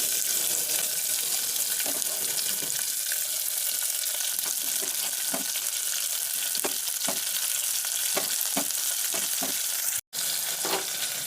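Onions fry in a pan for potato gravy, a loud, steady sizzle with scattered pops and crackles that runs throughout, broken only by a brief dropout near the end.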